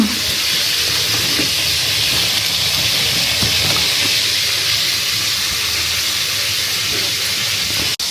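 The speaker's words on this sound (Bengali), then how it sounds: "যেহেতু আমার শাশুড়ি মা সব মাছ ভেজে ভেজে রান্না করে, তো আমিও ভেজে ভেজে রান্না করব" Rohu fish frying in a pan makes a loud, continuous broadband sizzle that holds steady without letup, a dense hiss close to the pan with faint stirring underneath.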